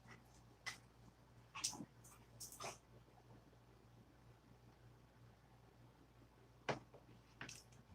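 Dogs whimpering indoors, a few faint scattered whines and snuffles spread across the stretch with long gaps, over a steady low electrical hum.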